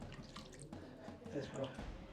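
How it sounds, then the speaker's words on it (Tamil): Water drips steadily inside a cave spring at Ravvala Konda in Andhra, faint and echoing beneath a voice talking. "continuously water coming"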